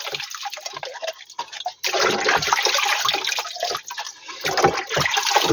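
A bucket of water is poured over a filter to rinse it, making a continuous rushing, splashing gush that dips briefly and surges again, close and fairly loud.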